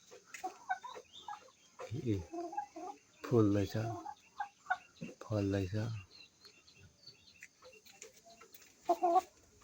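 Local hens and roosters cluck and call loudly in several close bursts, with quieter scattered clucks and a person speaking in between.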